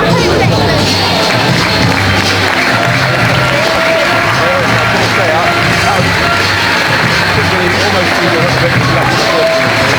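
Ice hockey arena crowd applauding and cheering for a player during a Swindon Wildcats versus Hull Pirates game, a loud, steady wash of clapping and crowd noise lasting throughout with dense babble.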